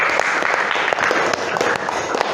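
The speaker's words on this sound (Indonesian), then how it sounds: "Tepuk tangan untuk Mas Panji" A classroom of students claps for a classmate, loud, dense applause close by that holds steady for a couple of seconds.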